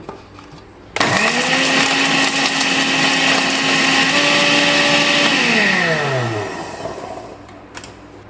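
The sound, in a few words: electric grinder grinding biryani spices into powder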